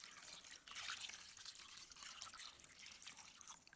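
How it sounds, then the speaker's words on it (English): Tap water runs into a basin of salted chicken feet for washing, a soft continuous splashing and trickling stream with no talking. "Add water."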